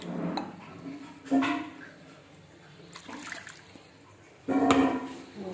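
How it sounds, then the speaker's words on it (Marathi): Water splashes and pours into a pot of kadhi mixture in short bursts, with a clatter of metal between pours at a moderate distance. "थोडे पाणी आपण ॲड करूया"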